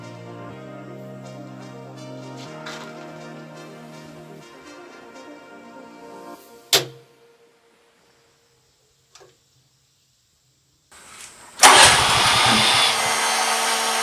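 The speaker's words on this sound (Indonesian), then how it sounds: "Di sana sudah kedengaran gensetnya start pertama gagal. Lalu kemudian start kedua kedengaran sudah on." A generator at a swiftlet house on an auto start-stop panel cranks and runs briefly, cuts out after a sharp click, falls silent, then fires again on the second start and settles into a loud, steady running roar.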